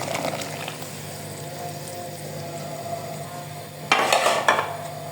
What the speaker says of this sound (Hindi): साथ ही इसमें ये दही जाएगा और साथ ही ये टमाटरों की प्योरी